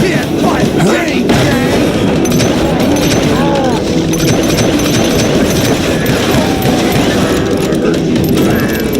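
Train from the Western shooter Call of Juarez: Gunslinger, a loud, steady rumble of rolling rail cars with clattering and bursts of gunfire layered over it, continuous throughout with no pause.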